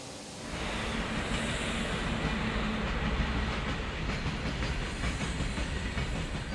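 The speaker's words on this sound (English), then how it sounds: "The old steam trains make up for the chaos of the carriages." An old steam train runs through the Himalayan foothills, its steady rumbling clatter and hiss rising quickly and then holding loud and continuous, with no voices heard.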